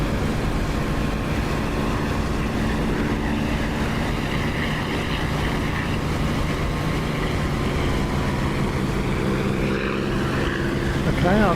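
A propeller aircraft engine in the DCS flight simulator game, with the prop pitch pulled back to about 2,700 RPM just after takeoff with the gear up, holds a loud, steady drone from start to finish.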